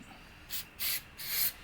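A rag rubs across a new brake disc for a Mitsubishi NL Pajero in three quick, soft swishing wipes, close and quiet with no talk.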